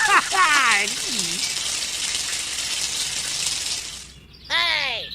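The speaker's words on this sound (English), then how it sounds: "the bad guy pours water into a swamp" Water gushes steadily as it is poured into a miniature swamp for a kids' tractor-powered water pump project, a continuous splashing flow framed by excited talking at the start and end.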